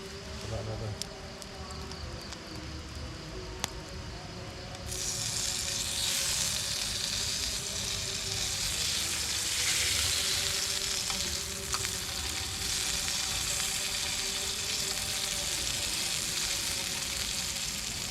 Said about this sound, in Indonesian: Ikannya lek di panggang jadi menyusut